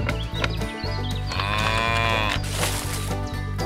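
Cattle moo loudly and close by, with long drawn-out calls that overlap one another.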